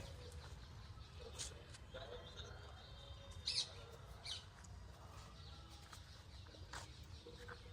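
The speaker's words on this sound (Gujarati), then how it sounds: "હારા હારા પક્ષીઓનો અવાજ આવે" Small birds chirp and call in a quiet garden, with brief high tweets and a sharper call standing out over a low steady background hum and faint voices.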